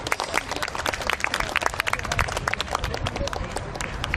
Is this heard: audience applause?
yes